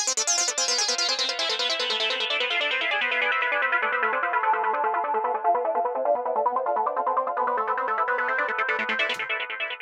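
A synthesizer patch running through the Tritium Max for Live audio device plays a steady melodic sequence of bright, rapid notes, loud and continuous throughout with no talking.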